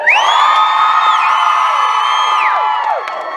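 A convention panel audience at VegasCon 2016 screams and cheers loudly in one sustained, high-pitched roar that tapers off near the end.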